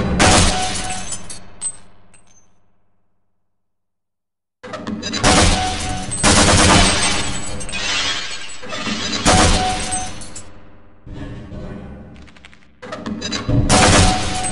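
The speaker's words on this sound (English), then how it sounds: "Your grenade launcher, use your alternate fire button." Grenade launcher shots and explosions in the video game Half-Life: loud, close blasts with shattering, rattling bursts, split by a short silent gap and followed by several further heavy volleys.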